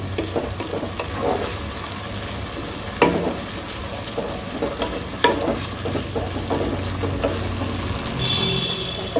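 Green chilli masala for a chicken dish fries in a pan with a steady, fairly loud sizzle, while a spatula stirs it with scattered scrapes and knocks.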